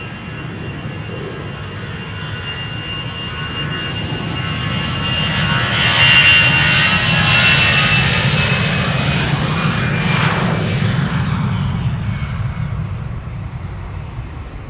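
EasyJet Airbus A320 departing Amsterdam Schiphol for Bristol, a jet roar with a high whine that builds, passes close and loud, then slowly trails off, alone without voices.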